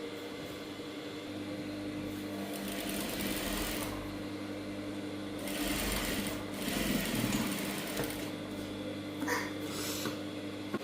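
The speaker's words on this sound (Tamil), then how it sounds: "இப்படியே தையல் போட போகிறேன்" A sewing machine stitches the shoulder seams of a gown, giving a steady, continuous mechanical hum with a few louder surges partway through. It runs close and alone, with no talk over it.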